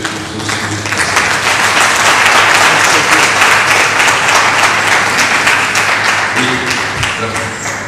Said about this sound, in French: Nous devons vraiment applaudir notre frère, notre grand frère,